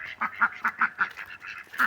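Farm ducks quack close by in a quick rhythmic series of about nine short nasal calls over two seconds, with no voices.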